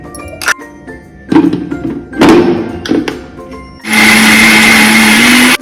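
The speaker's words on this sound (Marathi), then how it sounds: "आता ग्राइंड करूया." A mixer grinder whirs steadily as it grinds onion, ginger and spices into a paste for a Goan prawn curry, a loud continuous motor drone lasting under two seconds after a few clunks and taps of the jar being handled.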